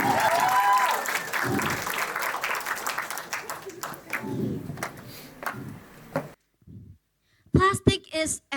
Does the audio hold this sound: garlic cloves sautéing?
no